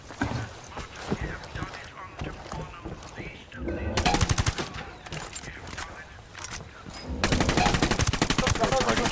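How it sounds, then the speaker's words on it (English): Submachine gun fire in the video game Ghost Recon Wildlands: rapid automatic bursts crackle close and loud, separated by short pauses, with voices talking in between. "Submachine guns."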